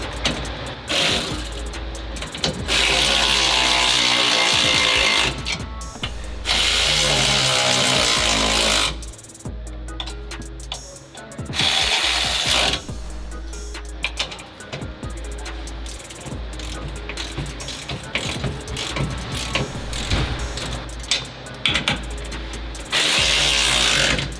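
Mounting nuts on a Z1 leveling kit are tightened on a Nissan Titan. A ratchet clicks and power tool bursts sound against a constant, loud engine-like background hum.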